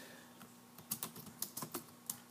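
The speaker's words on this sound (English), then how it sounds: "And now I could type in here" Typing on a computer keyboard while entering text into a text box: a faint, close patter of quick irregular keystrokes over a quiet room hum.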